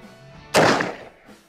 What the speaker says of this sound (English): we're gonna shoot with the 44 mag just to see what we get with that